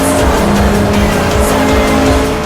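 A Honda CR-X slides its back end around the outside of a mountain corner, tires squealing in one loud, steady howl over the roaring engine.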